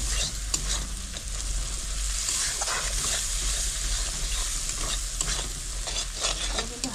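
Onion and spice masala sautéed over low heat in a pan, a close, steady sizzle broken by repeated scraping and stirring strokes, with no talking.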